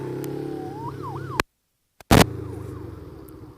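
An ambulance siren wails with a rising and falling pitch as it passes on the road, then cuts out in a sudden dropout before a loud burst of noise. The siren returns faintly afterward.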